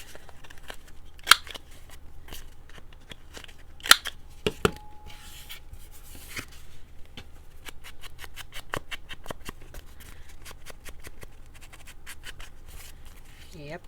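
Scissors snip through a small paper tag, with a few sharp, separate cuts followed by a quicker run of light snips and rustling paper. Coffee-dyed card is handled at close range, and scattered talk comes through underneath.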